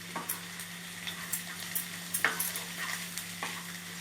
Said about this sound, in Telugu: కారం పచ్చివాసన పోయేంత వరకు కూడాను ఒక 2 నిమిషాలు వేయించాలి.